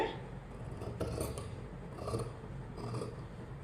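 Scissors cut fabric for a baby moon pillow in soft, close, rasping snips that repeat in a loose rhythm, quiet against a faint room background.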